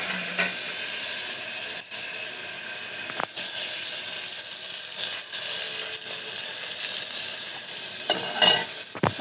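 Onions, tomato, cumin, mustard seeds, turmeric, coriander and curry leaves sizzle steadily in a hot pan for a potato curry. Occasional stirring scrapes break the constant close frying hiss, and no one speaks.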